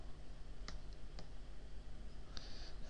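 A few sharp, faint clicks of a computer mouse spaced over a couple of seconds in a quiet room with steady background hiss.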